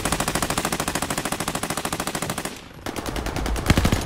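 Rapid automatic gunfire in Call of Duty: Modern Warfare, a steady burst briefly cutting out, then resuming with more shots and a couple of sharper impacts.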